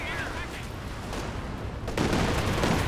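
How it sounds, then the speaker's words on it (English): Katyusha rocket artillery barrage in Company of Heroes 2, a dense rumbling roar of explosions and fire that swells louder near the end. "Close call with that Katyusha barrage coming in"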